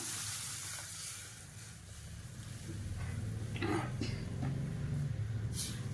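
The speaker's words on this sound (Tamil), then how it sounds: "இப்போ இதை லோ ஃப்ளேமில் வச்சுட்டு அடி பிடிக்க விடாமல் கிண்டி கிளறிக்கிட்டே இருக்கணும்" Mor kali (buttermilk porridge) being stirred in a pan over a low flame: faint, quiet scraping and stirring strokes over a soft background sizzle.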